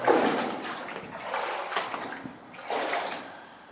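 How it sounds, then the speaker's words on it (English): Shallow water rushes over stones in a cave stream, a continuous close splashing and gurgling that rises and falls in surges. "the water is racing over some stones up here. It's quite shallow."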